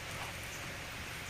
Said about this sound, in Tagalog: Oh, umuulan na guys.